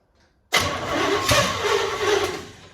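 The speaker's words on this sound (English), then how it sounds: "let's go ahead and grab our carb cleaner again and get this thing restarted." A 1963 Chevy C10 engine cranks and catches on carb cleaner, roaring abruptly to life after a short silence and then running loud and steady with a bump in revs partway through.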